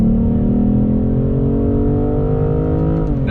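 A 2021 BMW M440i coupe accelerates hard in second gear in manual shift mode, its engine note rising steadily and loudly from inside the cabin before easing off near the end.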